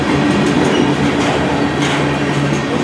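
Several CN freight locomotives roar past at close range hauling hoppers, a loud, steady rumble of engines and rolling wagons with sustained tonal bands that may carry part of a horn blast.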